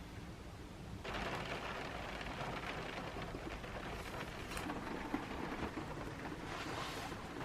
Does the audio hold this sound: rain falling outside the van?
yes